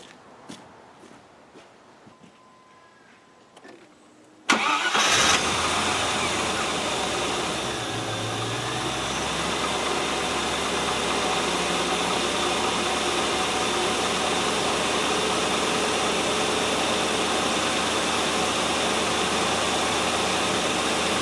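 Near silence with faint clicks, then a 1997 Land Rover Discovery 1 engine abruptly starts with a loud, slightly rattly burst and settles into a steady, continuous idle at about 1,000 rpm, a little high.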